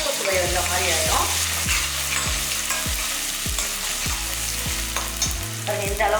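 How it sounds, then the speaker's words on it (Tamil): Ginger garlic paste frying in a pan for a goat head curry. A loud, steady sizzle sits up close, with a recurring tonal sweep in the background. "ஒரு 1/2 ஸ்பூன் மட்டும் இஞ்சி பூண்டு பேஸ்ட் போடலாம்."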